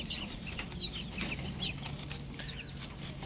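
Chicks in a coop waiting for a night-time snack make repeated soft clucks and high peeps, with occasional wing flutters, heard close and continuous over a steady background hiss.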